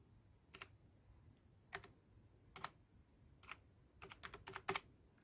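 Soft keystrokes on a computer keyboard as a date is entered into a spreadsheet, a few isolated taps then a quick cluster of clicks, faint and close against a quiet background.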